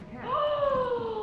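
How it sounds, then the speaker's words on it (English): A cat in the video game Lethal Company lets out a single drawn-out meow that slides downward in pitch, close and clear over faint background noise. "A cat? I have a cat."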